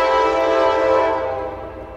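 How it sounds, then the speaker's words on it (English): An Amtrak San Joaquin train horn blares loudly and steadily at Oakland Jack London Square station, its harmonic tones slowly fading as the rumbling train, led by an F59PHI locomotive, draws in close. "Here she comes. This is a drop-off only train."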